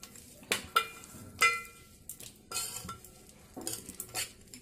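Flattened rice tempered with spices being stirred after lemon juice goes in, a spoon scraping and clinking against the pan in several separate strokes over a faint background sizzle, close and alone with no voices.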